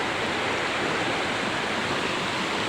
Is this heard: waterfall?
yes